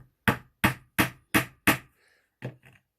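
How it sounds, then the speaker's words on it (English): A hammer taps a nail into wood with five sharp, evenly spaced knocks, then a pause and two lighter taps, close and clear with no talking. "Tap the nail in."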